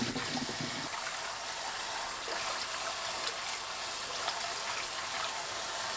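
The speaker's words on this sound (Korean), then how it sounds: "깨끗하게 3번 반복해서 씻어줍니다." Fresh dandelion leaves being washed in water, with a steady broadband rush of running, trickling water throughout and a brief lower splash at the start, no talk.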